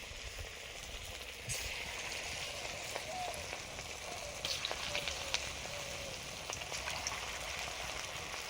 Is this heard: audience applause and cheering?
no